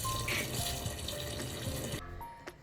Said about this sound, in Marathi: पण याच्यामध्ये पाणी भरून ठेवूयात